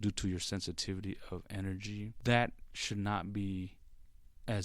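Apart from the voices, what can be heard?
No everyday noise stands out behind the speech.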